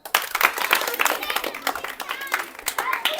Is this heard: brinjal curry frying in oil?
no